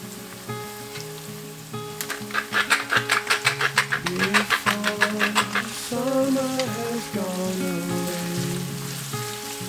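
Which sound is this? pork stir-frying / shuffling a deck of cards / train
pork stir-frying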